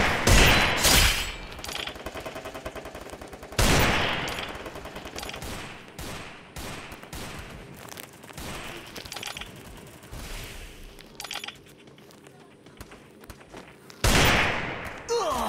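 Gunfire in the mobile battle game Free Fire: sharp rapid bursts and single shots crack out in clusters, loudest near the start and end, with quieter pops between and a voice talking at times.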